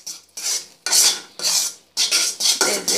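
Thick honeycomb candy (kotkoti) mixture sweetened with honey being stirred in a pan, a series of loud scraping, rasping strokes of a utensil against metal in an uneven rhythm, with no talking.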